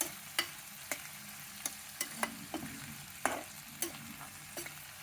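Peas, carrot, onion, green chillies, seasoning spices and curry leaves fry in a pan for rava upma, a steady soft sizzle broken by sharp pops and spatula clinks every half second or so.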